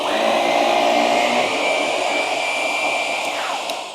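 A Shark NV360 Navigator Lift-Away upright vacuum runs on its bare floor setting with the brush off, giving a loud, steady whine and airflow roar whose pitch shifts slightly before easing off at the end.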